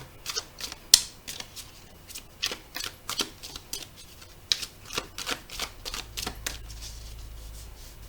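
A deck of cards is cut and handled in a quiet room, giving a string of crisp papery snaps and slaps in an uneven rhythm, close by and with no voices.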